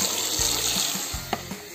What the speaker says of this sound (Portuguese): acho que eu vou até jogar essa água fora e colocar uma outra água